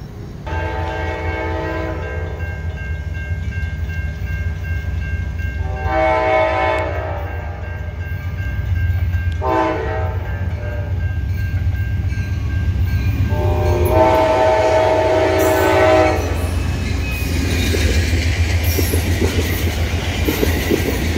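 Amtrak passenger train passing at night, loud continuous rumble and wheel clatter with several long horn blasts sounding in repeated bursts, close by and without any speech.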